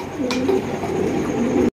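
Pigeons at a large pigeon farm, including a pair of Mundi pigeons, give low, throaty coos up close that run steadily until the sound cuts off abruptly.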